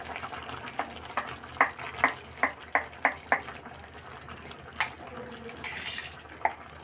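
Ground spice paste goes into meat frying on low flame: a soft sizzle under a run of about a dozen quick, light taps and scrapes, close by and fairly quiet, with no talk.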